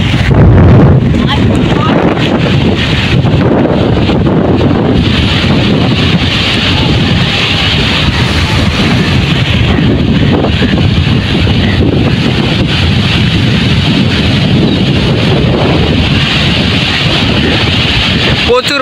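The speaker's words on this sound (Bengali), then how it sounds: "প্রচুর বাতাস হইতেছে নদীর পার," Strong wind sweeps across the bank of the Meghna river, a loud, continuous roaring rush that buffets the microphone for the whole stretch without easing.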